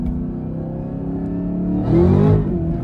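A Camaro ZL1 1LE pulls away hard in first gear through neighborhood streets. Its engine rumble swells close and loud, then rises in a short revving surge, with no voices.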